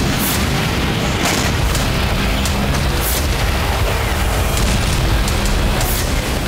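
Explosions from Israeli airstrikes on Hezbollah positions in southern Lebanon: a series of heavy booms at irregular intervals, some sharper bursts over a constant, loud rumbling background.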